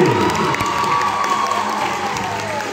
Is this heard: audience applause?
yes